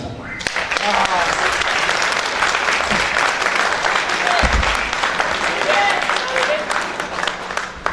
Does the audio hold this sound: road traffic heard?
no